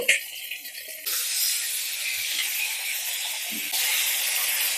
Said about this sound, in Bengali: এই পটলটা একটু উল্টে পাল্টে ভেজে নেব